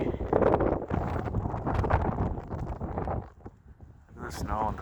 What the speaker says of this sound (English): As you can see, still very windy.